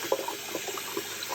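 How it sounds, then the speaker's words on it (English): Water trickles and splashes continuously through a strainer while sand is washed, a close, steady flowing sound with small bubbling drips. "you can see the water coming out of that is now crystal clear"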